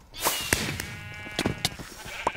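A sheep bleats with a wavering, nasal cry amid sharp clicks and taps in a Minecraft game on the Mineplex server, fairly close and moderately loud, with no talking.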